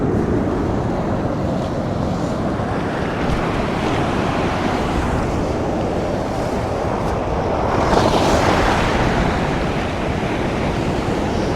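Sea waves roll and break on rocky shore in a continuous loud wash, wind buffeting the microphone throughout, with a heavier surge near the end and no voices.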